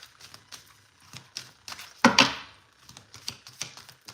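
Tarot cards are shuffled close by, with soft irregular taps and slides and one louder riffling burst midway.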